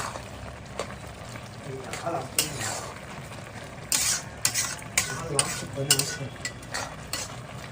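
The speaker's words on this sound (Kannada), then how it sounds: "ದ್ರಾಕ್ಷಿ ಗೋಡಂಬಿ ಎಲ್ಲ ಹಾಕೊಂತ ಇದ್ದಾರೆ. ಒಳ್ಳೆ ಫ್ರೈ ಕೊಟ್ಟು ದ್ರಾಕ್ಷಿ ಗೋಡಂಬಿಗೆ" Raisins and cashews fry in a pan for carrot halwa, with a soft continuous sizzle under repeated metal spoon scrapes and clinks against the pan, while people talk in the background.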